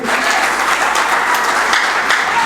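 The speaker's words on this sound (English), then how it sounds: "if you want to clap for that statement, clap very good" A church congregation claps during a Sunday sermon, a loud, sustained patter of many hands with no voice over it.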